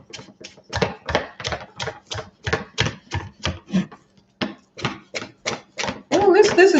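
A knife chops potsticker ingredients very thinly on a cutting board in a home kitchen, with about twenty close, crisp, evenly paced strikes, a brief pause, then more cuts before a voice begins.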